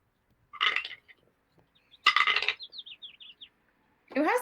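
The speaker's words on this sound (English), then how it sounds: "Who has the bird in the room?" Birds chirping outside a window: a quick run of small high chirps, close but light, sits between short bursts of people talking.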